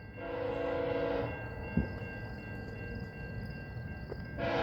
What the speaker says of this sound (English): I believe we got via train 79 arriving at Ingersoll via station. I can tell by its horn.